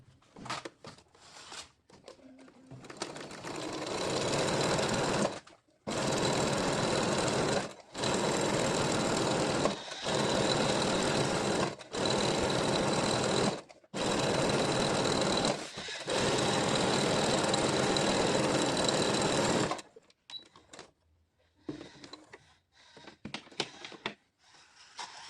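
A sewing machine runs in several long bursts of steady mechanical whirring with short pauses between them while it stitches a 0.5 to 0.7 cm seam along an ironed edge of a bodysuit. The machine is loud and close, with quieter handling noises at the end.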